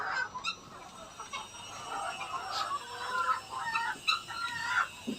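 Free-range layer hens in a backyard poultry pen cluck and chatter in overlapping bursts at close range, with brief honk-like calls rising over a steady farmyard bed.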